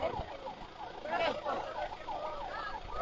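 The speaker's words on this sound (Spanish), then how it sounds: "Ahora viene una ambulancia ahí." An ambulance siren, apparently from San José de los Llanos, wails on a road in the Dominican Republic with swooping rising-and-falling tones over steady traffic rumble, moderately loud and drawing closer across the few seconds.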